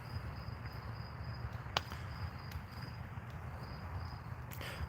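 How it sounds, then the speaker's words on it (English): Crickets chirp outdoors in steady, evenly spaced pulses, faint and continuous against a low background rumble, with a couple of sharp clicks breaking in. "I'm glad someone else can hear those crickets"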